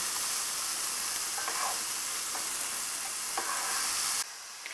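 Onions and garlic sauté in a pan with a steady, soft sizzle and a few faint stirring scrapes, then the sound cuts off abruptly near the end.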